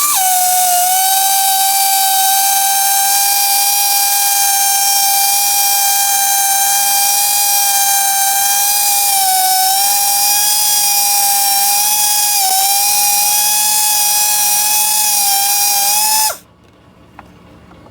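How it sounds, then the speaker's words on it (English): A die grinder spins a Scotch-Brite pad on a mandrel inside an engine cylinder bore of a 2.4 Ecotec, giving a loud, steady high-pitched whine that wavers slightly for about sixteen seconds, then stops abruptly. "I got a piece of Scotch-Brite stuck on the end of this mandrel here on a die grinder"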